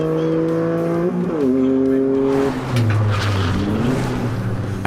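A Toyota GR Corolla races a Supra on a track, its engine wailing loud and close as the pitch climbs, drops at gear changes and rises again, with rough tyre and wind noise.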